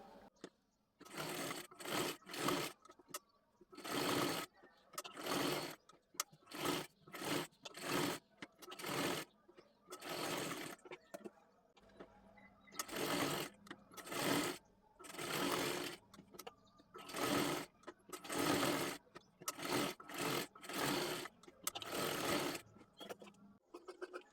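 A sewing machine stitches blouse lining fabric along its edges in repeated short runs, starting and stopping in an uneven rhythm, close and clear.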